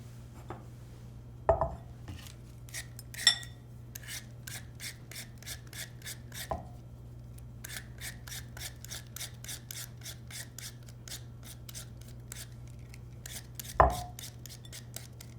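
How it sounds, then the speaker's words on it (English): A knife peels the skin off a potato in a kitchen, a long run of quick, regular scraping strokes close up, broken by a few louder knocks on the board. "To begin breaking down the potato, start by peeling off the skin."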